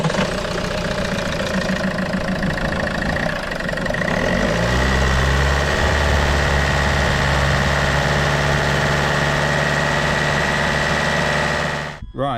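A Land Rover Freelander 2 engine cranks and fires just after a fuel filter change, settling into a steady close idle with a slight knocking diesel clatter, running alone until it shuts off.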